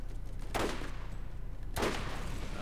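Bone Shredder gun in the video game Borderlands firing two short bursts about a second apart, sharp rattling volleys at moderate volume over faint background noise.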